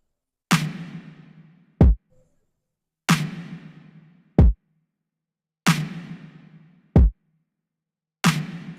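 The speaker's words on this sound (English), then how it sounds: "this is my first drum groove." A simple drum groove programmed in FL Studio for an R&B-style beat: a booming kick with a long decaying tail alternates with a short punchy hit, repeating steadily in a slow, even loop.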